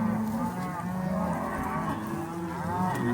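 Cattle on a Colorado ranch low steadily, several overlapping moos sounding close and loud throughout, with no talk.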